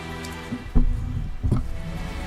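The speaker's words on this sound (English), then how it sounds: "And it's still raining, man." Rain falls in the video game Tales of Zestiria, a soft steady patter under background game music, with a couple of louder splashy thuds.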